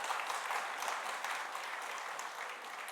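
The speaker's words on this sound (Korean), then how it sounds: "박수." A church congregation claps steadily in dense, sustained applause at a retirement ceremony, moderately loud, with no voices standing out.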